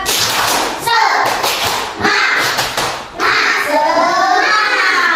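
Schoolchildren in a primary classroom do the rhythmic 'tepuk semangat' clapping game, sharp claps and thumps in quick patterns mixed with their chanting voices, loud and close throughout.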